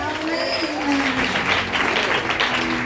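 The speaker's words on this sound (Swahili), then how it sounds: "Pigia Yesu makofi mazuri" Church congregation clapping steadily together in praise to Jesus, a dense, sustained wash of applause filling the room with voices mixed in.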